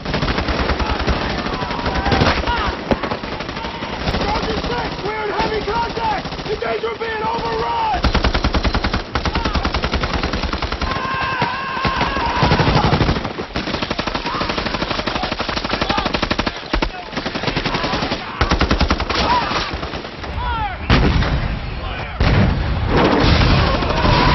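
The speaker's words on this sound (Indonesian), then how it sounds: "Situasi yang awalnya sangat hening pun langsung berubah dengan baku tembak yang begitu mengerikan." Relentless machine-gun fire and rifle shots in a Vietnam War battle, loud and continuous for the whole stretch, with heavier booms scattered through the chatter of bursts.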